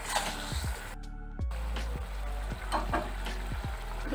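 Pointed gourd in poppy seed paste simmers in a pan, a soft, close bubbling and light sizzle with a brief break partway through and no speech.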